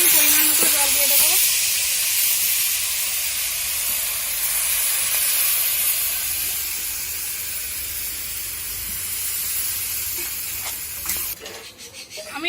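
Pumpkin greens sizzle and hiss in a hot pan after water is poured in, a loud continuous steamy hiss that slowly fades, followed by a brief clatter near the end.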